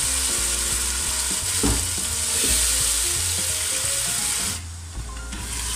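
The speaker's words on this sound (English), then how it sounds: "So occasionally stir." Chicken and vegetable pasta sauce with tomatoes frying in a pan, a steady close sizzle with soft scraping stirs throughout, no voices.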